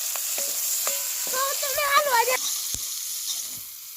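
Onion frying in a pan as a base for a mutton dish, with a steady sizzle and several sharp clinks and scrapes of a spoon stirring through it.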